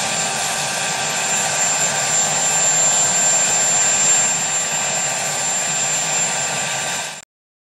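A helicopter engine runs steadily with a loud, constant whine and turbine roar that does not waver, then cuts off abruptly at the end.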